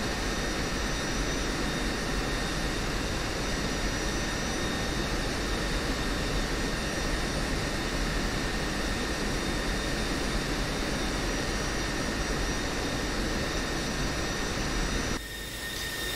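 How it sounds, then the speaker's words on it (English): An F-16C Block 52 in Pakistan Air Force livery taxis in DCS World, its jet engine a loud, constant, close roar that cuts off abruptly near the end. "now I'm steering my aircraft all the way to the runway"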